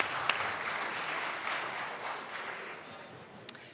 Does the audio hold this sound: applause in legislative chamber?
yes